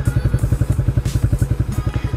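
Yamaha R25 exhaust fitted to a Yamaha New Vixion motorcycle idling, a steady rapid deep popping thump repeating evenly throughout, close and loud with no talking.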